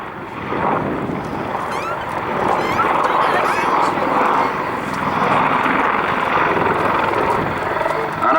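Army Air Corps Apache helicopter repositioning during an airshow display at Cosford, a loud sustained rotor and turbine roar with gusty wind noise over the microphone throughout.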